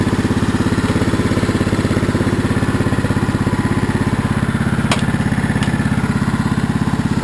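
An old riding lawn mower with a rotten, seized mowing deck runs steadily, its engine chugging with a rapid, even firing rhythm. It is loud and close, with a couple of faint clicks and no talk.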